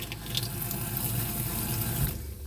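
Water rushes and splashes from an RV faucet during winterizing, a steady, close, loud stream that cuts off sharply near the end, with no talking.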